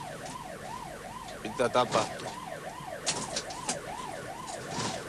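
An ambulance siren wails in a steady, rising-and-falling rhythm throughout, heard from inside the vehicle on its way to hospital. A voice speaks briefly over it, and a few knocks and rattles come through.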